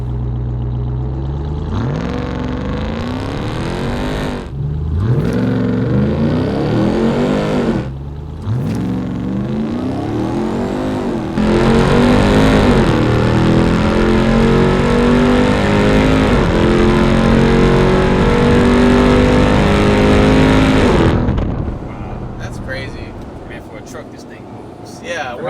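A Hennessey Mammoth 1000 TRX, a 1000 hp Ram TRX pickup with off-road wheels and tires, launches hard on a dragstrip with four aboard, its engine roaring loud and close through rising gear sweeps and shifts before easing off, heard from inside.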